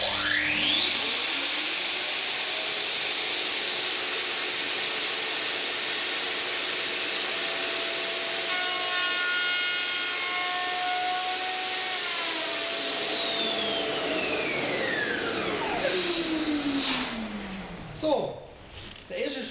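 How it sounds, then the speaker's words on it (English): A Festool router milling a groove for an automatic door seal whines loudly as it spins up, holds a steady high cutting tone with shifting pitch, then winds down near the end. "I mill in with the router and lightly cut in from the side."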